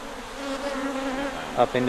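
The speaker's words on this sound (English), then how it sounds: "we've shaken the bees into this cardboard basket, and we're allowing them to crawl up into the" Honeybees shaken into a cardboard basket during a hive transfer in Ghana hum as a dense, steady swarm drone close by, swelling briefly louder near the end.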